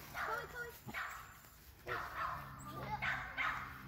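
Dogs bark and yip from behind a fence in several short bursts, fairly close and moderately loud, with a few whimpering tones between barks and people talking quietly nearby.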